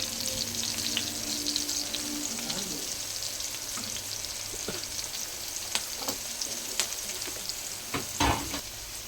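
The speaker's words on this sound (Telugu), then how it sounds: "ఇది ఫ్రై చేసుకోవాలి." Paneer fries in a pan with spices, a dense steady sizzle running throughout, with occasional spoon scrapes and clicks close by and no talking.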